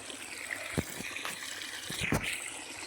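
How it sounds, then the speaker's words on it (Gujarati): Irrigation water running into a farm field, a steady watery trickle with a few soft gushing swells, continuous at close range with no talk. "આ ખેતરમાં જાય પાણી"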